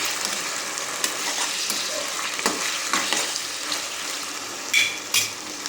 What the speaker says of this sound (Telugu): ఇప్పుడు చికెన్ వేసుకుందామండి. అరకిలో చికెన్ తీసుకున్నాను నేను. మొత్తం కలిపెట్టుకుందాం.